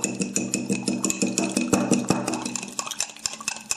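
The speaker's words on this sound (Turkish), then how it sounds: "Güzel çırpalım" An egg whisked briskly in a bowl for an Ottoman meat and wheat soup, the whisk clattering in a fast, steady rhythm of close metallic taps that continue for several seconds without speech.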